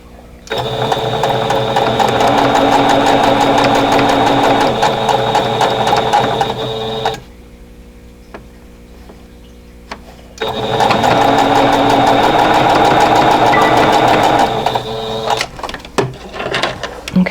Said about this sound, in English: And then I'll sew these 2 together.